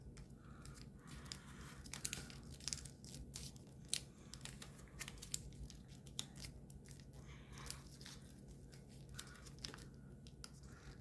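Paper is creased and folded for an origami ninja spinning top, producing close, quiet crinkles and sharp rustling taps in irregular bursts, with no talking.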